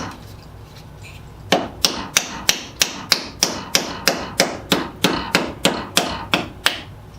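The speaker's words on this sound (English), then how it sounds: "and I drive the wedge in" A hammer drives a wedge into a new sledgehammer handle with about fourteen sharp, evenly spaced metallic blows at a steady rhythm, close by, with no talking.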